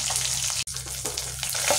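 Chitol fish frying in hot oil, a steady close sizzle that runs throughout with one brief dropout partway through.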